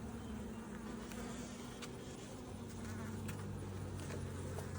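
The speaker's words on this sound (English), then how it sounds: "the bees like to get in there" Bees buzz steadily around a hive's frame feeder, a dense, continuous insect drone with close wingbeat hum throughout and occasional brief clicks from handling the equipment.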